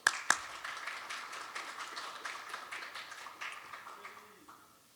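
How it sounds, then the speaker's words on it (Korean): Applause from a seminar audience welcoming a speaker, a couple of sharp near claps up front, then a moderate patter of many hands that gradually fades out. "우리 뜨거운 박수로 환영해 주십시오."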